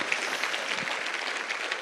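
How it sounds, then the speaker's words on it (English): Audience at a charity brunch fundraiser clapping together in a steady, dense burst of applause that holds evenly throughout, with no talk over it. "Please give them a round of applause for starting off with"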